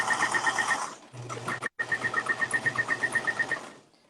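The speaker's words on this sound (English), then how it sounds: "I like this machine and it is reliable" An industrial sewing machine running in bursts, a fast rhythmic mechanical chatter that stops briefly and starts again, loud and close with no talking.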